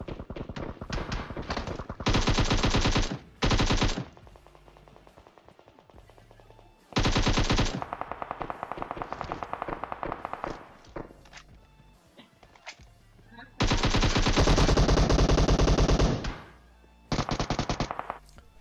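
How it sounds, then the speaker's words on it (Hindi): Automatic and rifle gunfire in the PUBG Mobile battle royale game, loud dense bursts of rapid shots repeating in several long volleys with shorter gaps of softer in-game sounds between them. "उतने में ही राइट से कोई गोली पेलता है"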